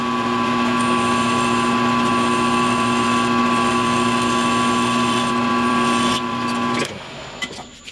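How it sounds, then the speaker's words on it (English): Milling machine drilling into an AK barrel part, a loud steady whine with strong tonal hum that runs unbroken for about seven seconds, then cuts out into quieter workshop sounds with a few small knocks. "We're going to move over to the machine for that, to the milling machine."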